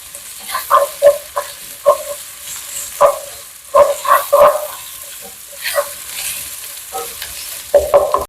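A spoon stirs ginger garlic paste frying in a pan for a chicken curry, giving repeated scraping knocks in an uneven rhythm over a steady sizzle, close and loud.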